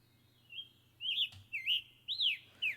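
A songbird sings a short run of bright, rising-and-falling chirps, four or five quick phrases spaced about half a second apart, clear and fairly close over a faint low hum.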